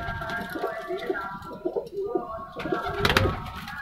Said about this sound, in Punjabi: ਇਹ ਵੀ ਚਿੱਟੀਆਂ ਅੱਖਾਂ ਦੀ ਕਬੂਤਰੀ ਆ ਜੀ।